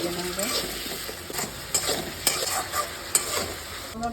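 Small puti and morola fish fry in a pan with turmeric, salt, sugar and red chili, a steady close sizzle broken by sharp, regular scrapes and knocks of a spatula stirring.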